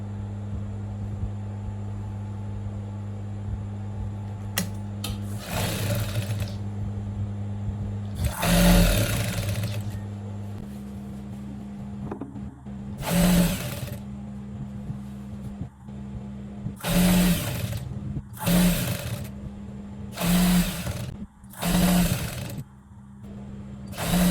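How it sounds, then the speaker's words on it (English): A sewing machine stitches the side seam of a khimar from neckline to wrist, its motor whirring in several close bursts of varying length over a steady low hum, with brief quiet gaps between runs. "you sew it from the neckline down to the wrist using 1/2 inch allowance"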